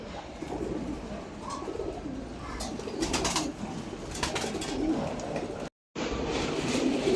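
Giribaz pigeons in a breeding loft coo with soft repeated low calls close by, over a steady background hum with a brief dropout near the end.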